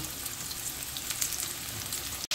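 Tofu for Korean tofu jorim frying in hot oil, a steady close crackling sizzle that runs unbroken and ends with a brief cutoff.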